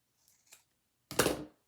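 Scissors cut a curved petal shape in drop cloth fabric: two faint quiet snips, then one louder crisp snip, close by.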